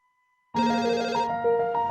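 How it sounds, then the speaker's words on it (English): A restaurant telephone starts ringing abruptly with a bright electronic ringtone, loud and close, holding a steady warbling tone after a brief near-silent start. "Every time the phone rings at our restaurant, it brings us hope."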